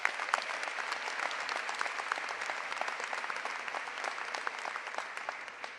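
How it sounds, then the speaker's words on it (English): Graduation audience clapping for school staff, a broad, continuous patter of many hands with crisp individual claps, fairly distant and even in level for the whole stretch. "So let's give them a round of applause."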